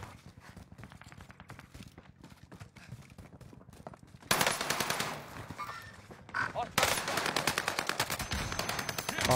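A gun in an online shooter video game fires rapid bursts of automatic fire, quieter at first and then loud and dense, the shots coming in quick rhythmic volleys with some lighter clatter mixed in.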